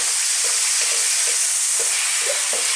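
Steady, loud sizzling of sausages frying in a pan over lively heat, with faint soft clinks of stirring throughout.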